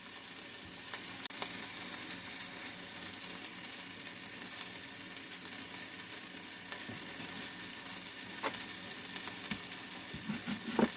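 Pork seasoning rendering in an enamel cast iron pot gives a steady, moderate sizzle and crackle throughout, with a few sharp pops and a clink of utensils near the end.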